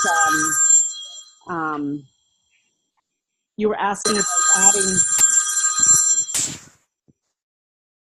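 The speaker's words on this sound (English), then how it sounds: "somebody's phone is ringing" A telephone rings on a Zoom sales team call, a steady electronic bell tone sounding near and loud for a few seconds, with people talking over and around it.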